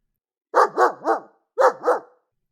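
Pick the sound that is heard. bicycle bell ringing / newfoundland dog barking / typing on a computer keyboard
newfoundland dog barking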